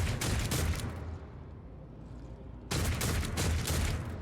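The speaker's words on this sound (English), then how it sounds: "Stop shooting our navigator" Gunfire in Warhammer 40k: Rogue Trader, a dense burst of shots at the start, a quieter lull, then another loud volley of shooting toward the end.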